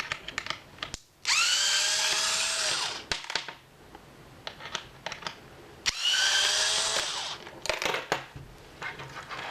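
Power screwdriver backing out standard Phillips cross-head screws from a Daihatsu Copen center console, two sustained whirring bursts with small clicks and taps of screws and parts between them, close and clear with no talk.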